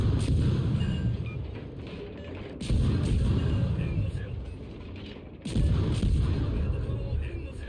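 Heavy warship guns firing in World of Warships, two loud booming salvos with rumbling tails spaced a few seconds apart over continuous low engine and sea rumble.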